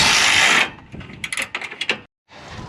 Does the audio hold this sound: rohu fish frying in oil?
no